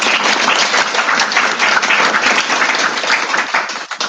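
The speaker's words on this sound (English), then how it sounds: "So let's give a applause to the speakers." Loud, dense applause from a conference audience after a session of lightning talks, continuous clapping filling the span before tapering at the very end.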